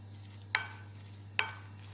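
A spoon stirs a mixture of tuna, grated potato and vegetables, making two brief, crisp scrapes about a second apart over a steady low hum.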